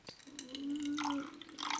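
Water drips and trickles close by while a home humidifier is being cleaned, a short steady run of liquid with a few bright drip sounds and no talking.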